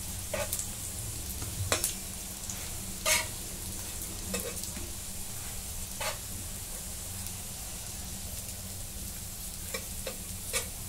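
Taro leaf rolls (alu vadi) shallow-frying in a pan, a soft continuous sizzle with scattered crackles and pops spread across the whole stretch, quiet and close.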